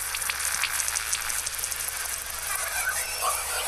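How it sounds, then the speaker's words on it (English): A noise oscillator preset in the Serum software synth for hardwave music, a steady bright hiss like crackling static or rain, constant and fairly loud with a faint low hum beneath, no voices. "So this first one is a preset in Serum. It's literally just a noise oscillator."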